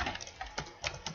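Quick, close clicks of keys on a computer keyboard, about half a dozen keystrokes in uneven succession over a short burst with no voice present.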